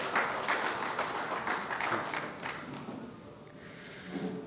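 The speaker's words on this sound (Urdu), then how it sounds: "آپ سب کی بھرپور تالیوں میں محمد صابر" An audience claps together at a literary forum evening as a guest is called to the stage, steady dense applause that carries on for several seconds and gradually thins out toward the end.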